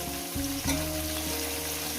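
Mixed vegetables sizzle steadily in a hot kadai for fish-head chorchori, with a couple of stirring scrapes and faint music underneath.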